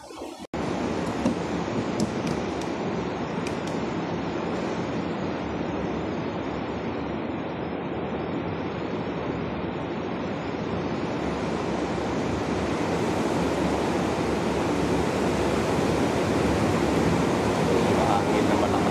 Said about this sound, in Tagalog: Hangin na malakas.